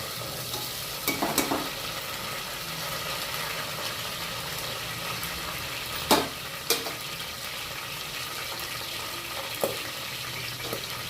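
Mint and green chillies frying in a pan for chicken pulao, a steady close sizzle running throughout, with a few sharp clinks of a spatula stirring against the pan.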